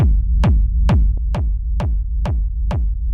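A techno kick and rumble, raw before a final EQ Eight, thumps in a steady four-on-the-floor pulse, seven punchy hits with deep booming tails that fill the gaps. The sound is loud and continuous, with no voices.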